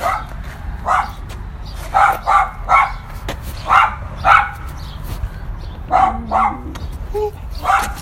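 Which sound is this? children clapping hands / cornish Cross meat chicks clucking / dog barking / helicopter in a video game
dog barking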